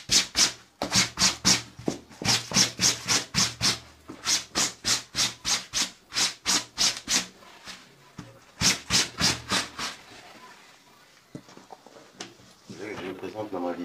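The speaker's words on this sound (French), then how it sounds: "afin que lorsque je vais brosser, qu'il y ait vraiment le contact entre la brosse et le tissu" A brush scrubs back and forth over soapy white shirt fabric in quick rhythmic strokes, loud and close, pausing briefly and then continuing before tapering into softer handling sounds.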